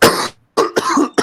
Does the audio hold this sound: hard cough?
yes